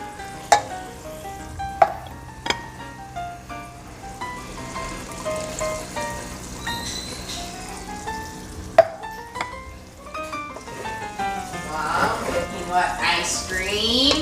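Bacon fries in a pan, a soft steady sizzle with occasional clinks of a utensil against the pan and a rising crackle toward the end, while people talk over it.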